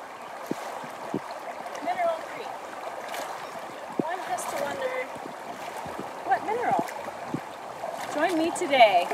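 A small tributary stream feeding Mineral Creek in the Gila Wilderness flows steadily nearby, with a continuous babbling and trickling wash and small splashy surges throughout.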